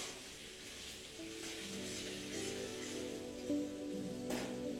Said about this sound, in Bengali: আর এই পেঁয়াজটা যতক্ষণে ভাজা হচ্ছে